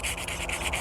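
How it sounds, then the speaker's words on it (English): Camera rubbing against a BMW wheel during sanding with 80-grit sandpaper, a close, rhythmic scratchy rasp repeating in quick strokes, with no speech. "Oh, the camera's rubbing up against the wheel."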